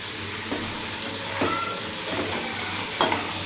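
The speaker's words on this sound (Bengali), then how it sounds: "এবার মাংসটাকে আমি দিয়ে দিলাম।" Chicken pieces go into a pan of fried spice paste and sizzle steadily, with a few scraping stirs and clinks of a spatula against the pan, close and fairly loud.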